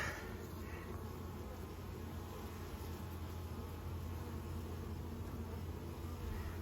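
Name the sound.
honeybee foragers returning to the hive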